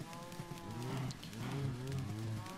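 Minecraft cows moo in a few low, drawn-out calls, fairly quiet, with no speech.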